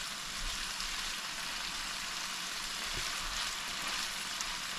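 Saltfish frying in extra virgin olive oil, a dense, even sizzling hiss that stays constant and close throughout.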